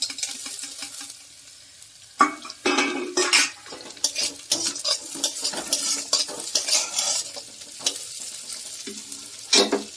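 Potatoes, ginger and fried cauliflower are stirred in a pan for cauliflower singara filling: loud, irregular scraping and clanking of a utensil against the metal pan over a low sizzle, close up, with no talking.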